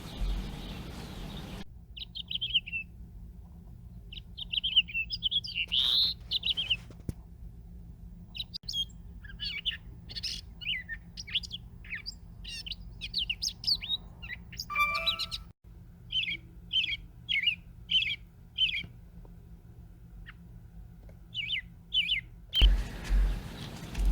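Songbirds in bushes beside a birdhouse outside a window sing a morning chorus of repeated chirps, tweets and trills, close and clear, one phrase after another with short pauses against a quiet background.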